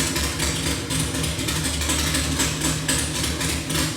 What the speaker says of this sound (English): even though it's a 540-inch motor, it sounds all super racy and radical